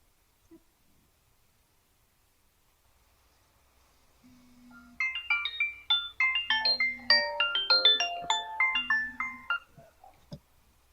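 A telephone rings out alone, a repeating electronic ringtone melody with short low tones between phrases, fairly loud and close, as a hospital nurse calls the nutritionist.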